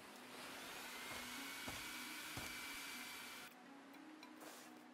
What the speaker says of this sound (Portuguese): Esse aqui é o aspirador, né?